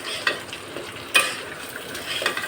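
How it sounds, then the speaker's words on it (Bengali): Hilsa fish pieces are stirred into onion masala frying in a pan, a close sizzle broken by a few scraping strokes of the spatula. "এখন আমি এই মাছটা এর ভিতরে দিয়ে দেবো, দিয়ে এটা সুন্দর করে নাড়ায় চাড়ায় মাছের মধ্যে যেন সব কিছু ঢোকে।"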